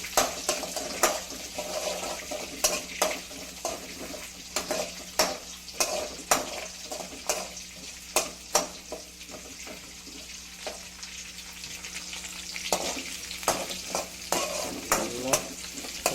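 Chopped green chilies and crushed garlic sizzle in a pan for a cabbage fry, with repeated clinks and scrapes of a spoon stirring against the pan over a steady, close frying hiss.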